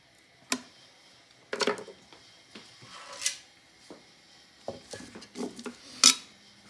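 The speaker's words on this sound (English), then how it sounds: "So the first thing to do is we're going to undo this screw" Small metallic clicks, scrapes and taps from a screwdriver undoing a screw on a Fern O'Gran gramophone brake assembly, scattered and close, some sharp ticks among softer fiddling sounds, with no talking.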